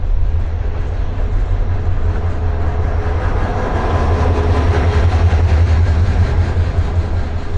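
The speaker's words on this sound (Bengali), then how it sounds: "আমাদের ট্রেনটা এগারোটা চল্লিশ মিনিটে রংপুরে প্রবেশ করতেছে" A passenger express train enters Rangpur station in Bangladesh with a loud, steady rolling rumble and faint rhythmic clickety-clack of the wheels, heard close up from onboard throughout.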